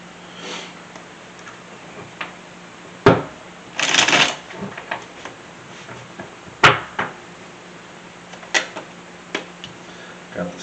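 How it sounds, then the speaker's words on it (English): Tarot cards riffled and shuffled in a few quick bursts, with soft ticks and taps between, close and fairly quiet, no talking. "let's do some shuffling here."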